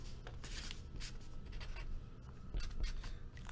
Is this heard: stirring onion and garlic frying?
no